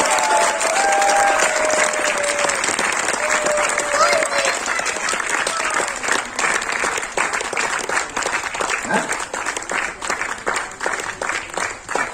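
An audience claps loudly at an app inauguration seminar, sustained dense applause filling the room, with a voice speaking faintly underneath.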